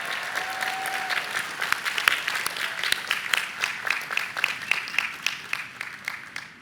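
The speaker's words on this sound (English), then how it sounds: "And yes, you may applaud." Emory class of 2018 graduates and guests at a commencement ceremony break into sustained applause, many hands clapping in a full, rolling patter that grows more distinctly rhythmic toward the end.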